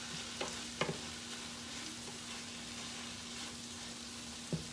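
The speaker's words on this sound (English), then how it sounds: "I'm just letting that simmer a little bit more." Food simmers in a pan during meal prep, a quiet, steady bubbling hiss with a low hum, broken by a few soft scrapes and knocks from stirring.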